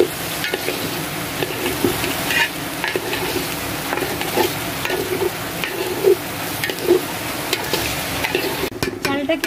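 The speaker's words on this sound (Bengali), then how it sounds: "চালটাকে আমি একদম ভাজা ভাজা করে ফেলছি।" Salted rice stirred and fried in a pot for pulao: close, continuous sizzling under repeated scraping stir strokes and soft clinks of a utensil against the pot.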